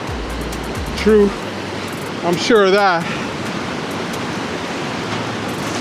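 Ocean waves wash steadily onto a beach in Guatemala, a constant loud roar of surf lasting the whole clip, while someone speaks briefly over it.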